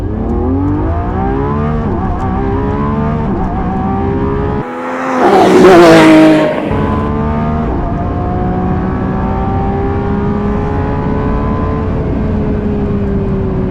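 Lamborghini hypercar engine revving hard and accelerating, a steady loud drone that swells into a sharp high-pitched rev burst midway before settling back to a sustained engine note, heard alone without talk.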